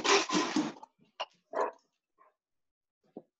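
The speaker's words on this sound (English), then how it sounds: "the dog is barking." A pet dog barks indoors at home, a few sharp separate barks followed by quieter yips and a whimper, fairly close, with silence between them.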